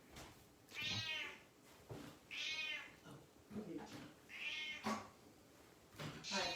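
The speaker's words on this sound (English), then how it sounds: "Alright, Kitty, you're really going to have to be quiet on this one" A house cat meows repeatedly, about five drawn-out calls at an uneven pace, close and clear in a quiet living room.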